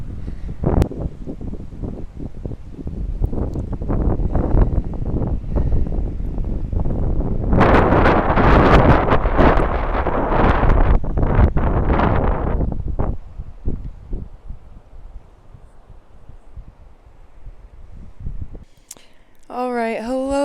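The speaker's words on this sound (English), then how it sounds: "It is too windy out there to take a video." Strong gusts batter a microphone outdoors, a loud rough roar swelling to a peak midway and easing off, with brief bursts of talk at the very end.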